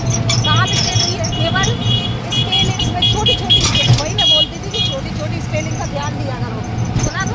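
Busy road traffic with passing cars and occasional horn toots runs steadily beneath someone speaking close by.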